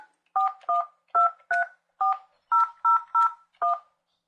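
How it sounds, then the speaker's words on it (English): Nine crisp touch-tone beeps from a Cisco SPA desk phone keypad, each short and evenly spaced, loud and clear with silence between them. "Press the dial soft key to complete the call."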